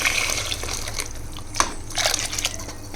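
Water pours and splashes steadily into a cooking pot, a continuous watery gurgle with a few louder sloshes, close by and with no talking.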